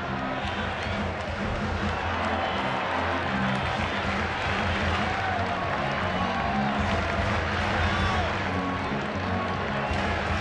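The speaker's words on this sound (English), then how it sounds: "Yep, he made the play. Now he gets the applause." Ballpark crowd at a Cincinnati at San Francisco baseball game applauds a fielding play, a broad sustained clapping and murmuring wash from the stands, steady and moderately loud.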